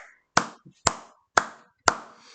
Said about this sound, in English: I get a special clap